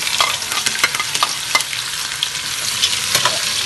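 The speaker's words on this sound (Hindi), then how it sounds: "अब ये थोड़ी देर हमारे मसाले हो गए हैं, अब इसमें हम ऑनियन डालेंगे।" Onions go into spices frying in oil for beef pulao. A loud, close, crackling sizzle sounds alone, with rapid spoon scrapes and stirring clicks throughout.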